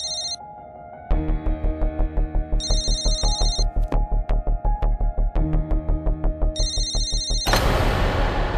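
A mobile phone left behind rings with a repeating electronic ringtone melody, a steady pulsing pattern near and clear, with no voices, until the tone is cut off by a burst of noise.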